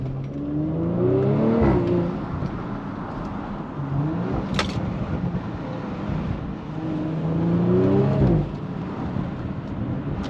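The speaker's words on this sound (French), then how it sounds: "Avec l'échappement RS, on a un très beau retour à l'échappement." A 2.9-litre V6 Audi RS4 with an RS exhaust pulls hard from inside the cabin, engine notes rising through two strong acceleration runs with gear changes, a steady drone between them and no speech.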